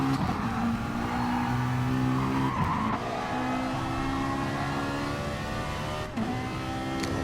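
A Ferrari race car in the racing game Gran Turismo Sport, during a league race, produces a loud, steady engine drone with tire squeal layered on top, continuous at close range with brief dips in level.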